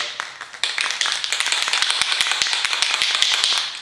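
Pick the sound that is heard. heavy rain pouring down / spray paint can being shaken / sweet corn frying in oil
spray paint can being shaken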